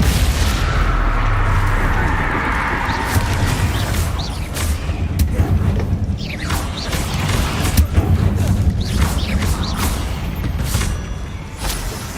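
Bombarda and Confringo spell explosions in Hogwarts Legacy: a dense, loud run of booming blasts and crackling impacts over a rumbling game score, with continuous layered combat noise throughout.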